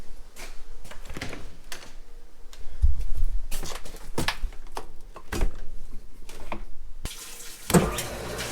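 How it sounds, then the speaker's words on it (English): Water runs into the wash tank of a maple syrup reverse osmosis machine, a steady rushing fill broken by irregular clanks and knocks from nearby equipment, close and moderately loud. "Right now I'm filling the wash tank, and then this thing will kick up and the high pressure pump will kick on."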